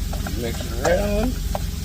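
Cheesy penne pasta is stirred in a pot with salt, giving a short, close scrape and slosh of spoon through thick pasta over a steady low hum, with faint sizzling.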